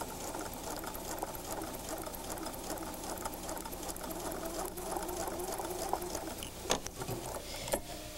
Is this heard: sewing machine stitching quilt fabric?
yes